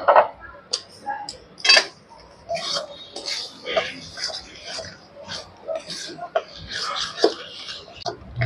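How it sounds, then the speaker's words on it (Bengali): Spice paste stir-fried in a pan for chicken, with sparse ticks and scrapes of a spatula against the pan while someone talks over it. "বন্ধুরা ভালো করে মশলাটা আমি কষিয়ে নিচ্ছি।"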